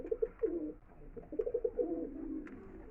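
Madrasi pigeons coo in a close, soft series of repeated throaty calls, alone in a quiet setting.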